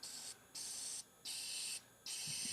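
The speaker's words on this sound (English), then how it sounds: "Just kind of do some test spray here to kind of see how it's going to air out." Short test bursts from an airbrush spraying paint, three bright airy hisses cut by brief pauses, close and steady, with no talking.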